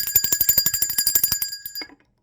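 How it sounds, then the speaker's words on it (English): A bell rings in a fast run of about twenty bright metallic strikes that then taper off into a few sparse rings before falling silent. It is loud and near, with no voices. "Let the God ring the bell for that."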